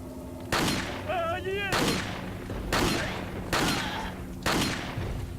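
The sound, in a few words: gunshots in video game Resident Evil 4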